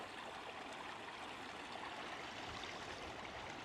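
Overflowing pond water running off like a stream, a soft, steady rush and trickle of flowing water heard alone throughout.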